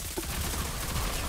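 Gunfire in the shooter video game Rogue Company, a brief burst of rapid shots packed into little more than a second, loud and dense.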